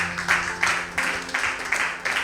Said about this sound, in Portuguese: bate palmas bem forte para ele.